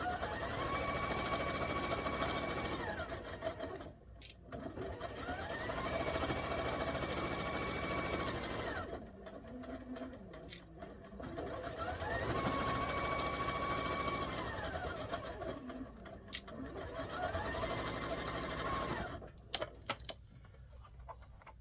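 A sewing machine stitches a red, white and blue quilt top in long steady runs of rapid mechanical whirring. Short pauses for pulling pins break up the runs, with a few small clicks between them. The sound is close and moderately loud.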